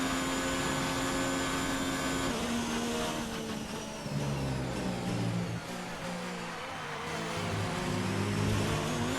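Formula 1 race car engine in the F1 2019 video game, racing in Austria with a failing turbocharger: a loud continuous high whine that rises and falls with gear shifts, holding steady throughout.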